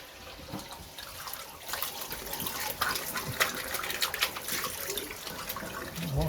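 Running tap water washing out a shower trap: a continuous splashing stream with irregular spatters and drips, close and moderately loud, no talking.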